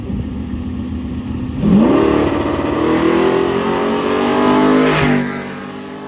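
A Chevrolet Blazer launches on a drag strip and accelerates hard down the track, its loud engine roar rising through the gears before easing off near the end. No one speaks.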